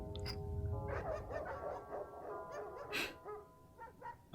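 Dogs in the video game Mystery of the Druids let out a quick run of faint barks and yips, fairly distant and quiet, with some whimpering among them.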